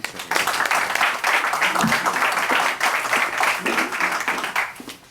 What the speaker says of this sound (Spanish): quiero invitar a ustedes a recibir a Carlos Sánchez Berzaín con un aplauso